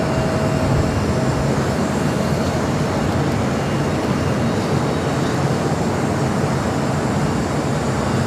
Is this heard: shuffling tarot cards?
no